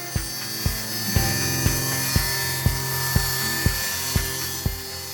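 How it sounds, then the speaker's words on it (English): A table saw runs with a steady whine while feeding end grain wood strips for a cutting board, sharp cutting bursts recurring at a regular pace about every half second, loud and close with no talk. "Make sure the end grain is up when you're sending these through the table saw."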